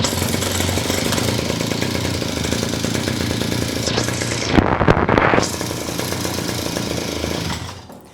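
A Kyeyang brush cutter's small two-stroke engine, started by pull cord while held down by foot, runs loud and steady with a harsh buzzing drone, briefly revs higher near the middle, then winds down at the end.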